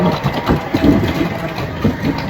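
An auto rickshaw's small engine runs steadily nearby in Kuakata, low and throbbing, with a slightly uneven idle and no talking.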